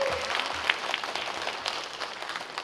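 An audience at a Taiwanese seniors' association Lunar New Year gathering gives a sustained round of clapping to honour its past presidents and directors, a dense, steady patter of many hands that fades slightly toward the end.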